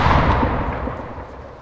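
Arma 3 gunfire with bullets striking, a heavy burst of rough, booming shots at the start that quickly decays into rumbling echo and fades out.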